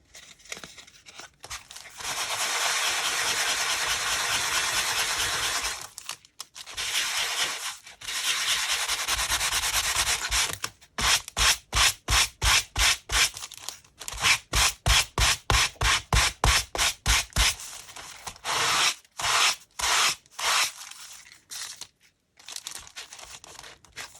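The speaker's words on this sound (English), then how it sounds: "I'm just going to sand off the paint from these raised bits" Sandpaper rubbing paint off the raised parts of aluminium cans in a craft project: long steady scratchy passes at first, then a fast run of short rhythmic strokes, close and loud with no talking.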